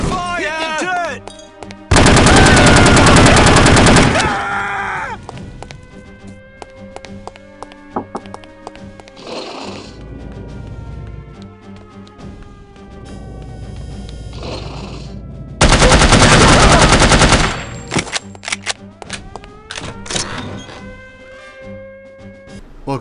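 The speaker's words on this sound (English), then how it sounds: "Incoming fire! Hit the dirt!" Automatic weapon fire in the video game No One Lives Forever rips out in two long, loud sustained bursts a dozen seconds apart, set against a steady bed of game music.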